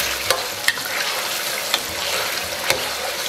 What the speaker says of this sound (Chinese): 再来几个腐乳给它捣碎，然后放到里边，小火给它炒出红油